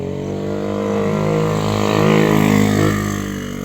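Motorcycles pass on a roadside, a loud engine drone swelling as a bike nears and goes by close, with harmonic whine rising and easing.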